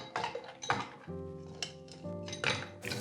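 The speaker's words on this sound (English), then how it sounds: "Fill the glass with ice." Ice cubes clatter into a cocktail glass in a few separate bursts, with clinks and short rattles ringing out between drops, fairly close and quiet.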